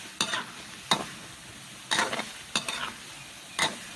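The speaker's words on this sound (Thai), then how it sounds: "คนไปเรื่อย ๆ คือถ้าเราเจียวกระเทียมเนี่ย การคนกระเทียมเนี่ยสำคัญที่สุด" Garlic frying in hot oil over high heat, a soft sizzle punctuated by about five sharp, separate scraping stirs of a utensil against the pan, close and clear with no voices.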